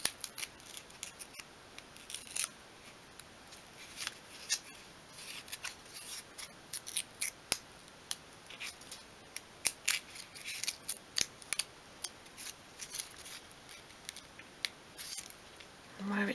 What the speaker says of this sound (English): and then we'll remove those paper strips and trim the leather away